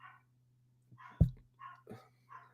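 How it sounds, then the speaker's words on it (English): A dog barks indoors in a house, a few distant, muffled barks spread across a couple of seconds over a steady low hum, with one louder sharp bark in the middle. "Dog's barking in my house."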